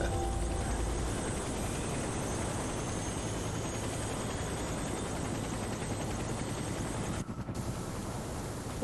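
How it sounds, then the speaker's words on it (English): Helicopter in the video game Warface, a steady loud broadband rotor-and-engine roar filling the scene continuously, with a brief dip near the end. "now the chopper is going to go into probably the worst simulated crash ever"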